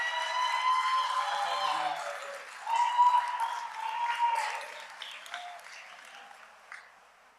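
A round of clapping from a school board meeting audience for student Spelling Bee award recipients, moderately distant and fading out toward the end, with some crowd murmur mixed in.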